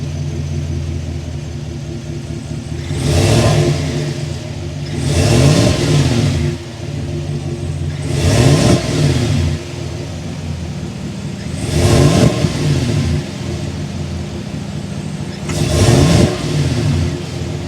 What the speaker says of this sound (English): start it up so you can hear that exhaust note